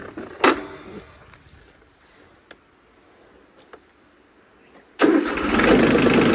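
A tractor used for garden work cranks over with a few ticks and clicks, then its engine catches abruptly near the end and settles into a loud, steady close-up running roar.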